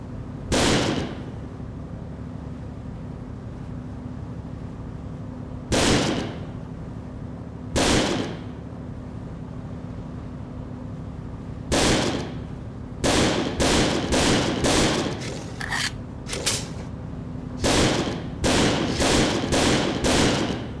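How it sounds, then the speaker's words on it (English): Gunshots at a firing range in the video game Second Sight, sharp single reports spaced several seconds apart at first, then coming in quicker irregular bursts, each loud and close against a quiet background hum. "take this ammo and fire it all into the range"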